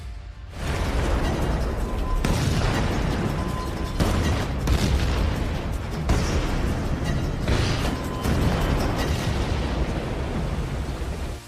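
A mine detonates in a war film scene, a loud sustained roar of blast and rumble that swells and stays heavy for about ten seconds with repeated booming bursts.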